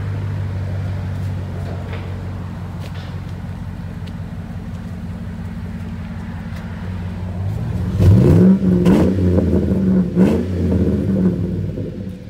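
A 2007 Chevy Tahoe Z71 with a 5.3 V8 and dual exhaust through 14-inch MagnaFlow mufflers idles with a deep steady burble, then revs up in a couple of loud, rising blips before settling back, close to the tailpipes.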